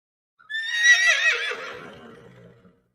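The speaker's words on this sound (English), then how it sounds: "Yes, it's a horse." A single horse gives one clear, loud neigh lasting about two seconds, a rising whinny that trails off into fluttering snorts.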